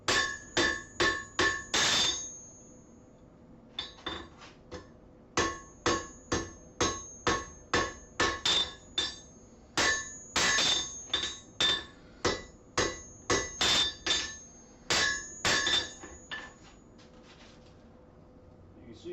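A blacksmith hammers hot metal on an anvil, working it narrower with a hand hammer alone: sharp ringing strikes come in quick bursts of four to eight blows, with short pauses between groups, close and loud.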